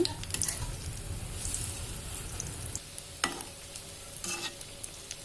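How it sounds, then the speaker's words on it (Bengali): Jackfruit-juice pitha fry in a pan, a steady sizzle with a few scraping knocks and clatters as the fritters are turned over, the frying quieter and thinner in the second half. "আমি পিঠেগুলো উল্টিয়ে দিলাম এখন আস্তে আস্তে করে ভেজে নেব"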